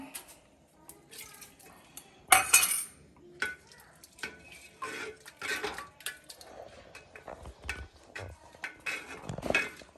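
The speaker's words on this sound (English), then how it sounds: "So we'll keep stirring a couple of minutes" Metal utensil scraping and clinking against a pot while stirring spiced vegetable dum handi with a little water, with irregular stirring sounds and faint liquid bubbling throughout.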